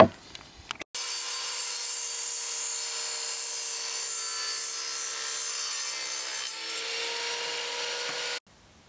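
Wooden parts for a birdhouse are cut with a power saw, a high, steady whining cut running for about seven and a half seconds after a few clicks and knocks, close and fairly loud, easing briefly before stopping.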